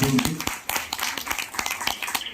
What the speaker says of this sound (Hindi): प्लीज उनके प्रयास के लिए एक बार तालियां बजा दें